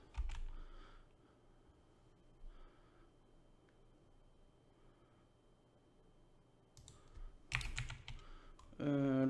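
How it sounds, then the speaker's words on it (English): Computer keyboard keys clicked in a few quick bursts near the end, close and moderately loud, after a long stretch of quiet room hum with faint soft taps. "If I can click on the keyboard on the right positions."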